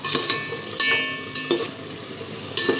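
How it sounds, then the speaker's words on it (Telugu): Onions and green chilies frying in a pan for a prawn biryani, a steady close sizzle broken by a few louder bursts as the mixture is stirred, with no talking. "ఇప్పుడైతే ఉల్లిపాయ అయితే వేగింది కదండి"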